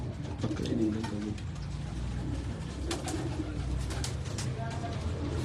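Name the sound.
pigeons cooing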